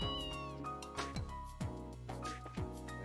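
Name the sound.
cat meowing in Trails in the Sky video game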